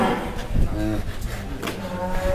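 Large Pegon cattle in a jumbo cattle barn in Tangerang give deep, drawn-out moos close to the microphone, with scattered barn noise around them.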